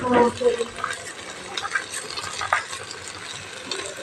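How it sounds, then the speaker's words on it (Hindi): Whole spices such as cumin and crushed coriander seed are fried in a pan, making a moderate crackling sizzle mixed with scraping stir sounds, close and fairly steady, with a voice speaking over parts of it. "अब इसको भूनेंगे अच्छी तरह।"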